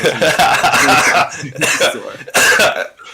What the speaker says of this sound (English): I've already muted myself like 3 or 4 times to cough